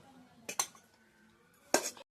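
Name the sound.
serving rice from a pot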